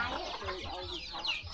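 Chickens in a remote rural mountain village cluck in a quick, close series of short calls, fairly quiet, against faint background noise.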